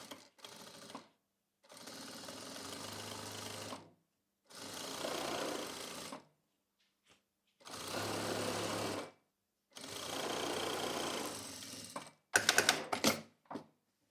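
A sewing machine runs in several bursts of fast, even stitching along the edge of a baby's hooded towel, each run lasting a few seconds with quiet gaps between, ending with a few sharp clatters.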